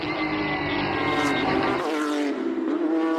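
A Porsche 992 Carrera Cup race car with a naturally aspirated flat six screams loudly at high revs, then the pitch drops as it passes and lifts off, no talk.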